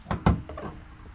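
Hood of a 2005 Pontiac with a factory-supercharged 3800 Series 3 engine being lifted, two quick close thuds and clicks of the latch and hinges followed by softer rattles.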